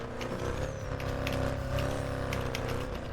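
A tuned Mercedes CLS 63 AMG in a racing video game holds a loud, steady engine drone with layered harmonic tones, slight pitch wavering and brief gear-shift blips over about three seconds.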